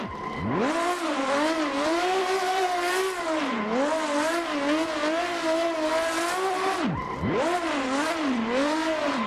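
A drift car in the racing game Assetto Corsa holds a loud, steady engine howl that rises and falls in pitch as it revs, with tire squeal. Near the end the engine briefly drops off, then climbs again.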